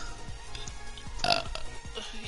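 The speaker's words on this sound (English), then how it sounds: "There you go, she burped again." A short, close burp rises briefly out of a background of game sounds and low voices during a Fall Guys session, a single guttural burst lasting about a quarter second.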